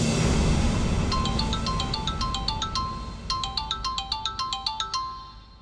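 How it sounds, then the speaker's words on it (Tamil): An incoming call rings on a phone in a Tamil TV serial: a bright electronic ringtone melody repeats as quick chiming notes, pauses briefly, then starts again, clear and close with no talk over it. "எலெக்ஷன் ஆபீசர் தான் ஃபோன் பண்றாரு."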